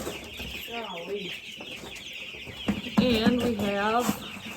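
Several meat chickens cluck and squawk close by, their bursts of calls rising and falling over a background hum.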